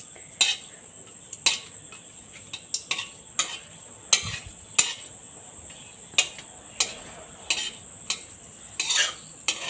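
A utensil stirring and scraping fritters (bora) frying in a pan, with sharp irregular clinks and taps spaced a second or so apart over a faint sizzling background.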